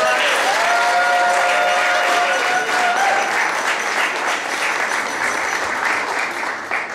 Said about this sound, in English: can we give one more round of applause to our honorees of Elgin and Chandra